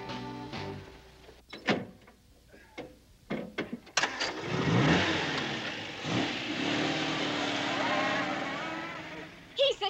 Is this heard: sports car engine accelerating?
yes